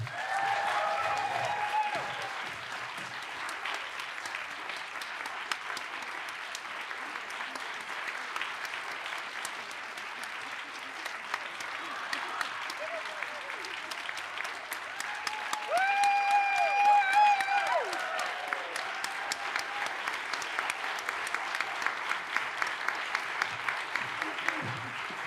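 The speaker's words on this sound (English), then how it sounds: "please join me in a final round of applause for our medalist" Sustained applause from a ceremony audience honoring the Radcliffe Medal recipient, a dense steady wash of clapping that runs unbroken for the full stretch, swelling slightly toward the end, with some cheering pitched above it.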